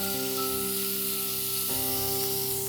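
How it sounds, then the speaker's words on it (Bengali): Garlic paste sizzles in hot olive oil, a steady close frying hiss with a continuous crackle that runs alone without a break. "অলিভ অয়েল দিয়ে দিলাম। রসুন বাটা দিয়ে দিব 1 চা চামচ পরিমাণ।"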